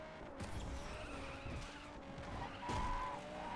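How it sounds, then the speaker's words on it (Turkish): A car drifting in Asphalt 8 Airborne, tires skidding and squealing over a steady engine roar, with a sharper screech near the end; continuous and fairly quiet. "Şöyle biraz drift."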